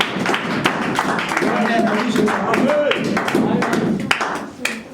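A church congregation claps along in rapid, steady rhythm, fairly loud and close, with voices calling out over the clapping.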